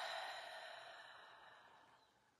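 A single soft exhale out through the mouth during a calm guided breathing session, breathy and close, fading away over about two seconds in a quiet room.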